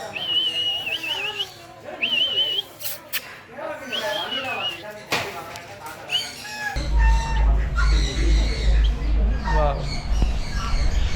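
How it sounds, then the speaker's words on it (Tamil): Chickens, roosters, turkeys and black hens cluck and squawk among other birds, with a steady low rumble joining partway through. "வான்கோழி இருக்குது சேவல் இருக்குது கருப்பு கோழி இருக்குது நாட்டுக்கோழி இருக்குது"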